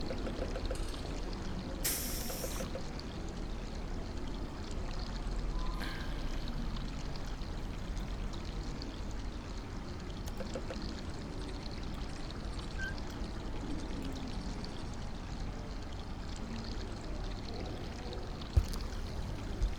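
Water pours steadily in the puzzle adventure game Machinarium, a soft continuous liquid stream running low and even throughout, with a brief brighter splash near the start and no voices.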